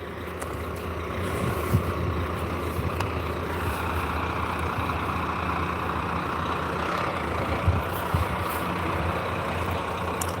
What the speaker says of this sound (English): there's one of our buses.